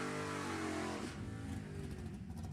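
Super Pro drag cars idle at the strip during an NHRA Summit Racing Series Division 7 E.T. Finals event, producing a loud, steady harmonic engine drone that loosens into a rougher, lower rumble after about a second.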